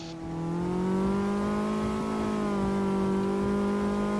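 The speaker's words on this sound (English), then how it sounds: "As you can hear, his revs just jump up as his rear wheels spin out a little bit" A high-pitched Caterham race car engine in Automobilista 2 sim racing whines steadily, its tone rising slightly then holding as the revs climb with rear wheelspin, loud and close with no talking.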